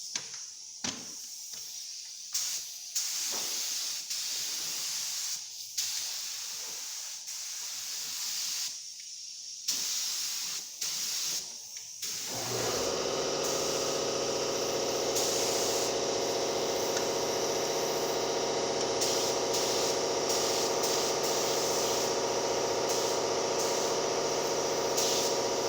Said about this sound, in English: we'll come back and hit it with a second coat